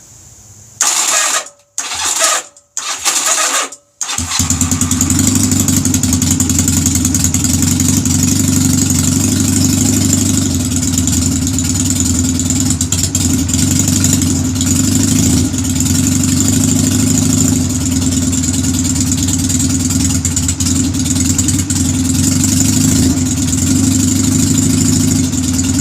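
A Honda Rebel motorcycle with carburetor trouble cranks and catches after a few brief starter bursts, then settles into a steady, loud, close idle held with a slight touch of throttle.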